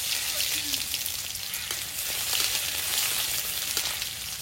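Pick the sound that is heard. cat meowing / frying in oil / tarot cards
frying in oil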